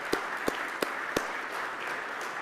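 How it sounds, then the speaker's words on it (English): A crowd applauds at a county address, a steady wash of clapping with a few louder individual claps standing out near the start. "We can give them a round of applause"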